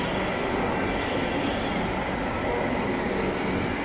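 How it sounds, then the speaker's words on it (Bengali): A metro train at Shahbag metro station in Dhaka makes a steady, loud rumbling roar that fills the station without a break, with no voices. "এটা শাহবাগ মেট্রো স্টেশন"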